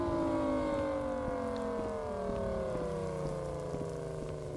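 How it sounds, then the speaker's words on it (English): A civil defense siren wails in the Rec Room game's Supercell tornado scene, a loud sustained tone with layered harmonics that slowly drop in pitch, steady and unbroken over faint background noise. "I mean, I've seen that siren everywhere now."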